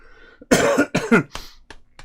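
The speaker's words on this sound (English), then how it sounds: "You gotta make me cough up a lung here." A person coughs hard several times in a row, close up, with a couple of fainter throat sounds trailing after.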